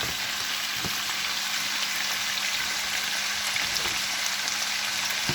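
Vegetables, including aubergine, cooking slowly in a pan over low heat with a little water, giving a steady soft sizzle and bubbling hiss throughout, close and even with no talking.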